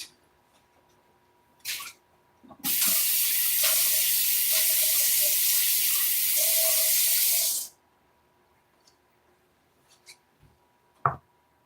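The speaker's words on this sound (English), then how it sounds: "I went and got myself some fresh water." Tap water runs steadily for about five seconds as a container is refilled with fresh water for painting, the broad rushing stream loud and close, framed by small clinks and handling sounds before and after.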